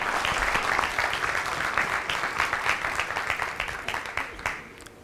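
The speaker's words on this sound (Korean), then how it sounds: "박수로 맞아주시기 바랍니다" A conference audience at the 2011 Seoul Digital Forum applauds to welcome KT's consumer division president, a steady wash of hand clapping in a hall that gradually thins out and fades.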